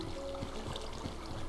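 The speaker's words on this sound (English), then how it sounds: "Oh, cave waterfall." A cave waterfall in Minecraft makes a soft, steady trickling and pouring sound, low and continuous with faint splashes.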